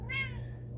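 A cat gives a single short, clear meow, fairly close and alone over a low background hum.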